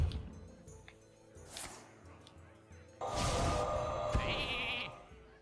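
Sheep bleat in the Hearthstone card game, short animal cries among whooshing spell effects and a crash-like burst, with a sustained bright magical sound near the end.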